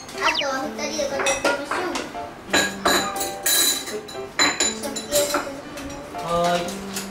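Dishes, plastic tableware and cutlery clatter and clink as a family clears the table after dinner at home, with sharp bursts of clanks coming in irregular clusters close by and a voice briefly heard.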